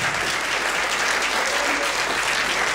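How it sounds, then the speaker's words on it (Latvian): Dense, steady audience applause at a dance concert, a broad wash of many hands clapping together, loud and sustained throughout with no voices standing out. "Aplausi!"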